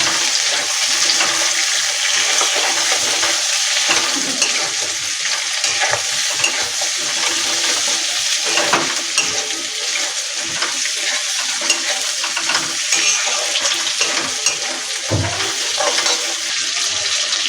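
Onion and capsicum frying with chicken in a pan for chili chicken, a loud, steady close-up sizzle with occasional stirring scrapes running throughout, no voices.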